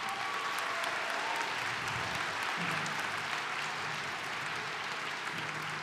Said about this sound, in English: can we give another round of applause to the awesome concert band?